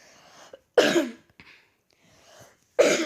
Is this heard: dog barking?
no